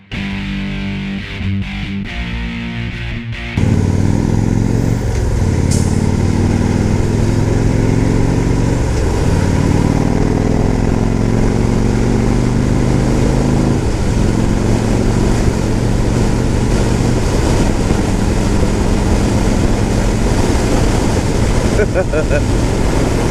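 A motorcycle engine, a small bike with flame graphics, runs steadily for most of the stretch after a brief quieter opening, with a loud, continuous drone and shifting revs under wind-like road noise.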